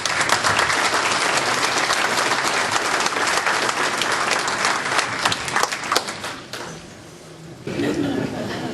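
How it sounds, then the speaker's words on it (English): Dense audience applause at a 2009 Godfrey village candidates forum for local mayoral and trustee races, loud and sustained for about six seconds before thinning out, with a brief renewed burst near the end. "Please give a round of applause to Don Miller."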